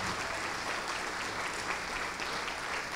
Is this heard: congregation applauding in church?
yes